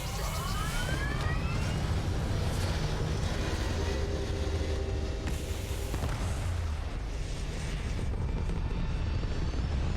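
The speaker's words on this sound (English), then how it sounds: "Liftoff looks good." A spaceship lifting off in the video game Starfield gives a continuous loud roaring rumble with rising engine whine that holds steady for the whole stretch, dense and heavy with no talk over it.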